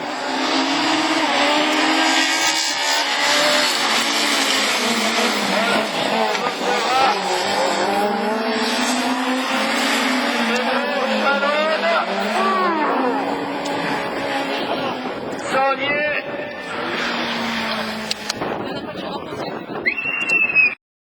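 Super 1600 rallycross cars launch off the start line at a Lessay race, engines screaming at high revs with tire squeal and skids, loud and continuous for about twenty seconds under excited French commentary.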